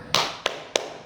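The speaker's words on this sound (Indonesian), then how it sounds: "Yang keempat bunyi tepuk tangan." Three sharp claps, close and crisp, spaced irregularly within about a second, with a short ringing decay after each.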